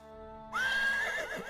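A horse neighs sharply and loudly after a half-second pause, the whinny rising and wavering for about a second before trailing off, close and clear with no talk over it.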